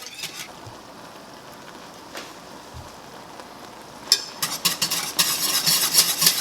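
A spoon stirs sauce in a pot as it heats toward a boil, giving a soft steady scraping and bubbling hiss that swells louder and busier in the final seconds.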